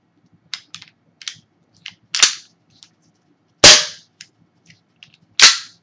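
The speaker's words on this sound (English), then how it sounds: "So then single action, and that time it locked back." A pistol dry-cycled during force-on-force training: a series of sharp mechanical clicks and snaps, then two loud crisp reports of the action firing single action and the slide locking back, close and alone.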